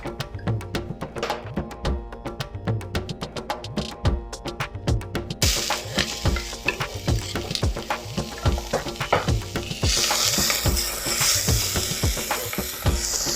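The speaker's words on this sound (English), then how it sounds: "Now I heat some vegetable oil in a pot and then add the onion and the garlic." Onion and garlic frying in hot vegetable oil in a pot, a close sizzle with rhythmic scraping and clicking of a spoon stirring, growing to a louder hiss toward the end.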